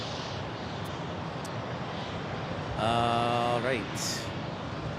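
An airliner, an A320neo, takes off from runway 7 left at Phoenix Sky Harbor Airport, its engine roar steady and fairly distant beneath a brief spoken remark and radio chatter.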